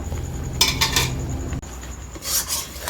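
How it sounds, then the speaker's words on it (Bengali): A utensil scrapes and clatters against a pan while raw green mango chutney is stirred, coming in short close bursts of rubbing and metallic scraping over a faint background hum. "সব কিছু ভালো করে নেড়ে চেড়ে নিয়েছি"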